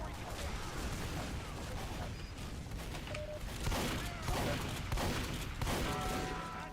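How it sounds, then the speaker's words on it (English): Constant gunfire in a Team Fortress 2 battle, a thick, unbroken wash of shots and blasts filling the whole stretch, with chaotic noise throughout. "Alright, I'm shooting the blue guys now."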